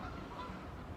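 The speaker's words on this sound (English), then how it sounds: "There goes some geese." Distant geese honking faintly against an outdoor background, a brief burst of nasal calls.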